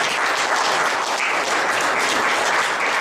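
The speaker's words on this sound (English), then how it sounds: "So a round of applause for Andrew." A round of applause from a Toastmasters meeting audience, steady many-handed clapping that stays loud and even throughout without breaks or voices.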